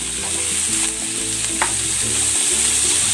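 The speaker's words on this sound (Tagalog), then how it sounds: "Igigisa ko na dito itong pork lomo at ang chicken breast." Pork loin and chicken breast sautéing with onion in a hot pan, a loud, continuous close sizzle with faint stirring scrapes and no voices.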